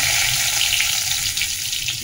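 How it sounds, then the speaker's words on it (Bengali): Cumin seeds and a bay leaf sizzle in hot oil, a dense, even, bright frying hiss heard up close and unbroken. "এর মধ্যে জিরে ফোড়ন দিয়ে দিচ্ছি, তেজপাতা"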